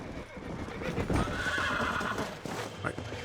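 A horse in the Red Dead Redemption video game gives a loud, drawn-out whinny over a steady clip-clop of hooves, close and clear, with no talk over it.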